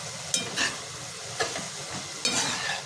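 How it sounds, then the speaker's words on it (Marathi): Vegetables for mushroom fried rice are stirred with green chili sauce and dark soy sauce in a hot pan, three sizzling, scraping strokes over a quiet hiss. "green chilli sauce dark soya sauce टाकून घेते आणि हे सर्व मिक्स करून घेते मी आता"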